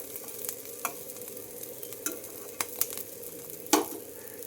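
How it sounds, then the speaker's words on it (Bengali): A handful of shrimp frying in oil in a pan, a soft continuous sizzle broken by several sharp clicks and scrapes of a utensil stirring, close and fairly quiet. "তেলের মধ্যে 1 মুঠো চিংড়ি মাছ দিয়ে দিচ্ছি। চিংড়ি মাছগুলো খুব সুন্দর করে ভেজে নিচ্ছি।"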